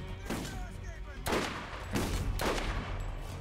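Gunfire in the video game Borderlands, with several sharp shots in quick succession over a steady background of game noise, loud and close.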